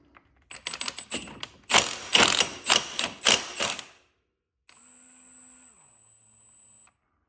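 Ratcheting clicks from a 30 mm socket removing the clutch nut on a Yamaha YFZ 450R quad, a burst of rapid mechanical ratchet strokes followed by a steady faint whir, close and alone.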